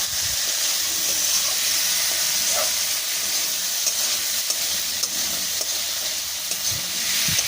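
Spice masala fries and sizzles in hot oil for a fish curry with peas, a constant close hiss with light stirring scrapes throughout, no voices.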